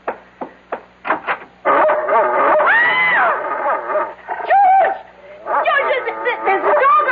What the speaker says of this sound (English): There's a dog on our bed.